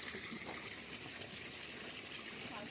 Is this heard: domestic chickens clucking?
no